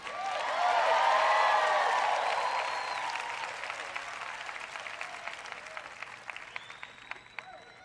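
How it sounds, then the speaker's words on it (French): A church congregation applauds and cheers at a French-language preaching event, a broad crowd roar that swells early and then slowly fades into scattered claps. "Allez, que quelqu'un acclame."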